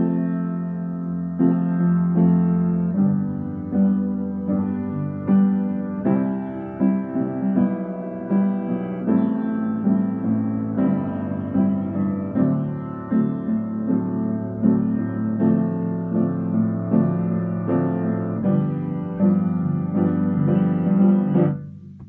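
Solo piano plays the bridge of a pop ballad, sustained chords and a melody flowing steadily at even volume, with no talking.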